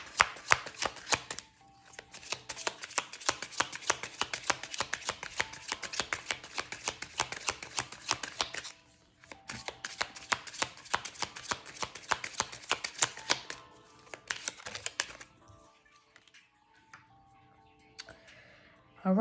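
Romance Angels Oracle cards are shuffled by hand in long bursts of rapid, crisp riffling flutters, close and clear, pausing briefly mid-way and trailing off near the end into quieter handling.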